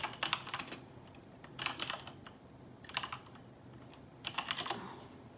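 Fingers type on a computer keyboard in four quick bursts of soft, close clicking separated by short pauses, with no voices.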